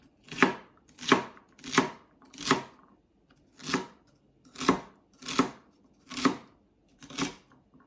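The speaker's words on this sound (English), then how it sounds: "now just cut everything" A knife chops vegetables on a cutting board for a wild rice corn chowder, about ten crisp, evenly spaced thuds close by with no talking.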